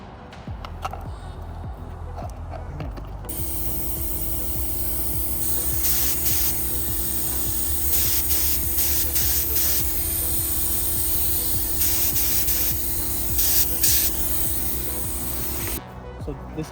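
A paint sprayer laying a light coat on a boat, a loud steady hiss running for about thirteen seconds with a constant motor hum beneath and brief fluctuations, no talking.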